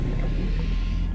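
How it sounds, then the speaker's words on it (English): A base powers up in the underwater game Subnautica with a brief low humming swell of machinery and a faint airy, watery wash, steady and close. "That is the sound of a base powering up."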